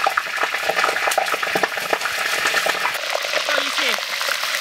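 Soy sauce poured over a large rooster frying in a pan sets off a loud, continuous, crackling sizzle throughout. A voice speaks briefly near the end.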